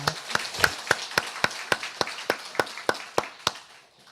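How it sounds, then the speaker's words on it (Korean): A Korean church congregation at a Sunday worship service claps in unison, about a dozen sharp, evenly spaced beats at a brisk steady tempo that stop abruptly near the end. "하나님께 감사와 영광의 박수 드리기를 원합니다"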